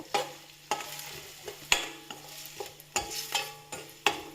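Onion frying with salt in a pan for mushroom gravy, stirred with a utensil that knocks and scrapes against the pan in irregular strokes over a steady close sizzle, with no talking.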